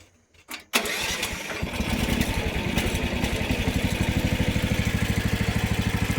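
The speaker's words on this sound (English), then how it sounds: "I'll just fire it up for you and we'll call it a video." A CFG KT12-R mini excavator engine cranks briefly after a short pause, catches, and settles into a steady, loud, rhythmic idle that chugs on alone without any talk.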